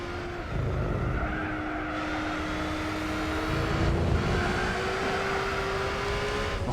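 A race car engine in Gran Turismo 4 drones steadily at high revs through a corner, its pitch rising gradually and dipping briefly with shifts, with no voices.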